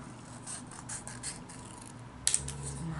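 Scissors snipping through lace fabric while cutting out a bustier, faint close scratchy cuts spread across the moment, with a couple of sharper clicks near the end.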